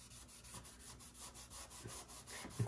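The aux module of a Midas Heritage 2000 console gets scrubbed after a squirt of WD-40, making a soft, steady back-and-forth rubbing and scratching, close but quiet, with a slightly louder scrape at the end.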